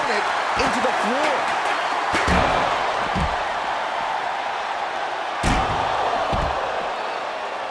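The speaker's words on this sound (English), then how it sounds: "basically hammering their opponent into the floor" A sledgehammer slams an opponent into the floor in the WWE 2K24 wrestling video game, heard as heavy thuds and impacts over a constant roaring crowd, loud and close.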